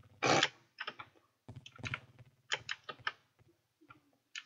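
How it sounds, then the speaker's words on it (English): Clusters of sharp clicky mechanical keyboard keystrokes arrive in uneven bursts with short pauses between, close up and fairly quiet, with a faint low hum beneath. "I like having a mechanical keyboard, you can hear how much work I'm putting in."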